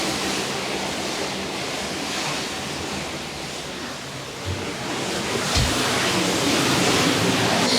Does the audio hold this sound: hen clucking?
no